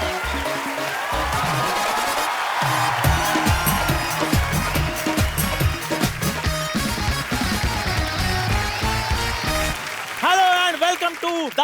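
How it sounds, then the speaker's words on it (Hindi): Studio audience applause and cheering on the Indian TV comedy program The Kapil Sharma Show, a steady wash of clapping mixed with loud, beat-driven music, followed near the end by a voice speaking. "और एक बार जोरदार तालियां टॉप की अदालत की।"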